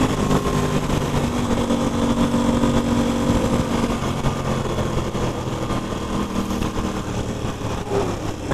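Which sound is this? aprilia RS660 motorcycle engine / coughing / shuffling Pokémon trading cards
aprilia RS660 motorcycle engine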